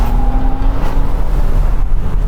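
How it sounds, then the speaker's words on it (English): A Lamborghini Gallardo's 5-liter V10 launches off the line, a loud, brief burst of rising engine roar, close and alone with no talk. "enjoy that glorious 5-liter V10. Woo! It launches off the line"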